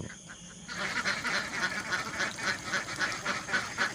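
Laying ducks on a duck farm quack steadily in a dense, continuous chorus of overlapping calls, moderately loud and close, with no talking.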